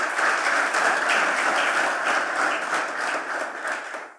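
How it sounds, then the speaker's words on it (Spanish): A church congregation breaks into strong, sustained applause during a worship service, a dense wash of many hands clapping at once, steady and loud before tapering at the end. "Un fuerte aplauso para el Señor."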